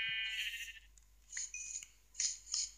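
Sheep in Minecraft bleat in a few short, bright, nasal calls spaced apart, with quiet gaps between them, clear and fairly close.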